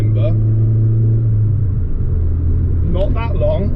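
British Leyland Rover car engine humming steadily at a low, even pitch while driving, with a brief rise in revs, heard close and continuous under a voice.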